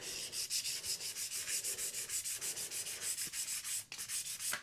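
A guitar headstock decal is wet-sanded with 400-grit wet and dry sandpaper, a steady back-and-forth rasp of quick, even strokes, close and fairly quiet, with a couple of faint knocks near the end.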